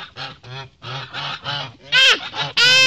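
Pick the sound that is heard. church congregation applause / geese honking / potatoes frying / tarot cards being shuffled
geese honking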